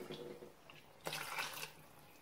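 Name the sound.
pouring water into chicken curry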